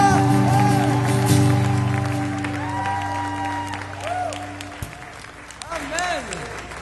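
A church congregation applauds during worship, a steady wash of clapping heard under sung and amplified music with a voice rising over it.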